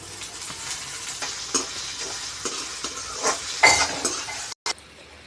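Dried fish (sukat) being sautéed with onion in hot oil, a steady sizzle broken by scraping stirs of a spatula and a few light clinks against the pan, with no voices.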